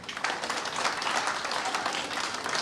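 Dense, even applause from an audience at a book launch event, steady and full throughout, with no pauses and no clear voices standing out.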